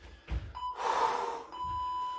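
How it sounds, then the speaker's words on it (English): A workout timer sounds steady electronic beeps, the tone running through most of the moment, while heavy breathing and a sharp gasp from someone exercising sit close over it. "There's the beeps."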